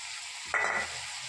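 Chicken being sautéed in a pan, a sudden burst of sizzling and frying that swells briefly as it is stirred, then settles back to a steady quieter hiss.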